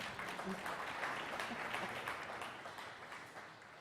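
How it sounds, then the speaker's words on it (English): Audience applause at a county Democrats' congressional candidate forum, a steady wash of many hands clapping at moderate distance, fairly quiet and slowly easing off toward the end. "Applaud now."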